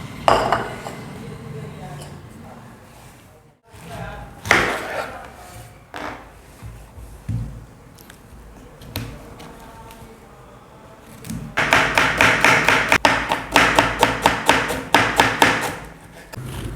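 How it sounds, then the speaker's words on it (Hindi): Cabbage is finely chopped with a knife on a board: scattered knocks and scraping at first, then a fast, dense run of rhythmic chopping taps near the end, close and clear. "बिल्कुल चॉप कटिंग जो होती है वो कटिंग करनी है हमने"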